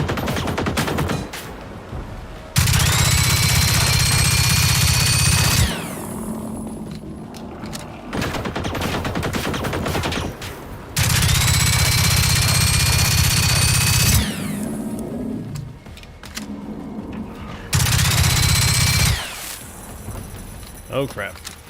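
Bursts of SMG and machine-gun fire in the shooter game Generation Zero, three sustained loud volleys of several seconds each, separated by quieter stretches of game noise and movement.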